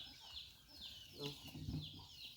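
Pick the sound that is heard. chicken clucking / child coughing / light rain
chicken clucking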